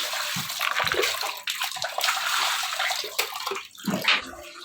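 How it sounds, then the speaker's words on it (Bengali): Water splashes and runs in a bathroom while feet are washed, giving uneven gushes and slaps with brief low thumps. It is close by and continues without a break, with no clear speech over it. "এই হচ্ছে আমার বাথরুম, এই যে পা ধুই এবার"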